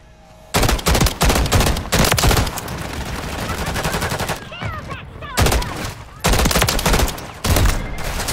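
Loud bursts of automatic gunfire from a Call of Duty match come in repeated heavy volleys with brief gaps between them, with a player talking faintly underneath.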